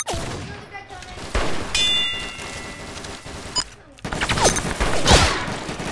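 Gunshots in a Roblox shooting game crack out in several bursts with metallic dings and clangs between them, loud and close, and a player's voice is heard in places.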